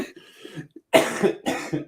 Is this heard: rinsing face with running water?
no